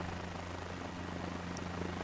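A helicopter flies in the video game Microsoft Flight Simulator 24, giving a steady droning rotor and engine hum, continuous and even in level, without talk.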